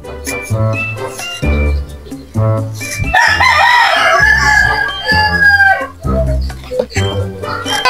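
A fighting rooster crows loudly and repeatedly at close range, its long strained calls alternating with clucks, while voices are heard nearby.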